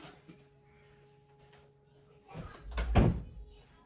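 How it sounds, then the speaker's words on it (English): A door is shut near the end, a dull thump and rattle after a quiet room with faint background hum. "I'm going to have to close my door"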